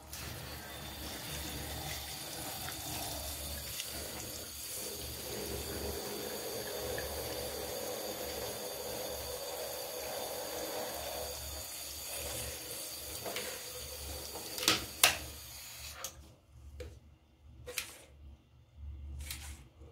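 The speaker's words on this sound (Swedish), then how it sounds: "Vi stänger och häller lite vatten." Water pours into a bathroom drain in a steady, hissing gush that runs for most of the clip, then tapers off into a few scattered splashes and drips.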